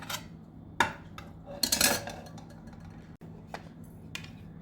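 Fried onions get scooped into a grinder jar, with a spoon clinking and scraping against metal utensils in a short cluster of close, light knocks and rattles, then a few softer taps.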